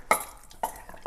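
Salmon marinade mixed in a bowl with a few quick, close clinks and scrapes of a utensil against the dish, three short strokes in about a second.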